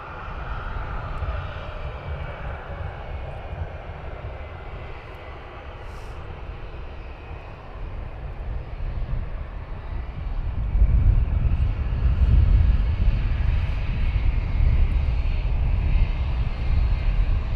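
A Wizz Air jet taxiing at Luton Airport gives a steady jet engine roar. It grows louder and deeper about two-thirds of the way through as the aircraft comes nearer.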